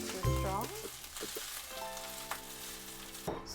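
Cheese melts over fried rice in a pan on low heat with a soft, steady sizzle and crackle, while tonal hums and some musical notes sit over it.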